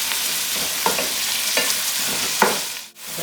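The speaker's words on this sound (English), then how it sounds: "So it has been frying for the last 10 minutes." Lamb pieces for rogan josh fry in a pan with a continuous close sizzle, broken by a few soft scraping stirs before the sound briefly drops away near the end.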